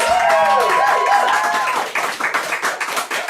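Clapping from a small audience at an open mic night, a scattered patter of hands that follows a fading tone and thins out toward the end.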